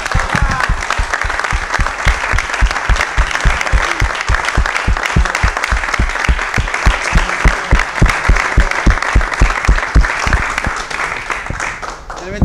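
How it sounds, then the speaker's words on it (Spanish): A studio audience gives sustained, loud, dense applause for the Temperley football squad on a sports program, a steady roar of many clapping hands with voices mixed in throughout. "este grupo realmente se merece el mayor de los aplausos"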